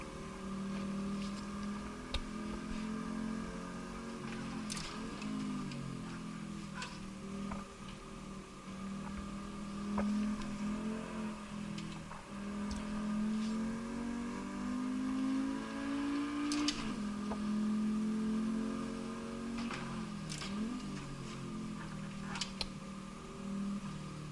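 An Assetto Corsa race car engine revs up and down through gear changes for a lap, a steady mid-loud drone with rising and falling pitch sweeps, heard alone.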